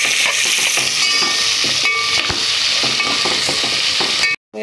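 Sliced onions fry in hot oil in a pan for a Goan soya chunk xacuti, giving a loud, steady, close sizzle broken by scraping stirs, with no talking.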